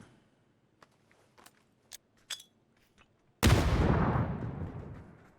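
A cooked grenade bursts in a PUBG match, a sudden loud blast that rolls off into a long decaying rumble, preceded by a few scattered light clicks and footsteps.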